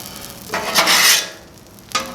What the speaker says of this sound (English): I'm gonna take my scraper here